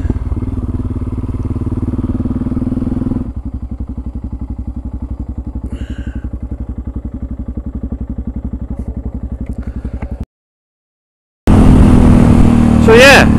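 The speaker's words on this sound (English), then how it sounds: "bloody engine dying" A vehicle engine runs loud and close with a steady, rapid thumping idle for about ten seconds, then abruptly cuts out into silence before a different loud noise starts.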